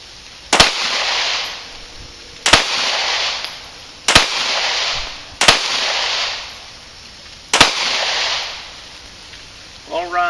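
Five sharp pistol shots ring out at an outdoor shooting range, each a loud crack followed by a rolling echo, spaced irregularly about one to two seconds apart, with a faint clatter at the end.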